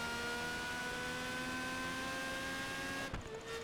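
A racing car engine in Project Gotham Racing 4 holds a steady, high, tonal whine at close range, then shifts pitch abruptly near the end, with no voices present.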